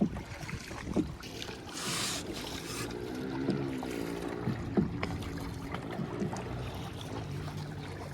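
Small hand-paddled fishing boat gliding on Lake Sebu, with soft paddle splashes and water lapping against the hull under steady wind noise, a few faint voices in the background.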